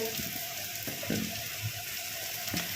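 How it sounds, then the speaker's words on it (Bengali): Homemade shrimp paste frying in a pan makes a soft, continuous sizzle with faint crackles throughout, heard up close and without talk. "একটু জাস্ট ভাজা ভাজা করব দিয়ে ওই চিংড়ির যে পেস্টটা আমি বানিয়েছি সেটাকে দিয়ে দেবো"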